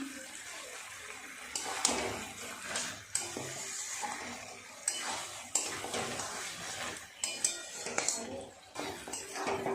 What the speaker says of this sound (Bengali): প্রায় মিনিট কুড়ি সময় নিয়ে এইভাবে মাংসটাকে কষিয়ে নিলাম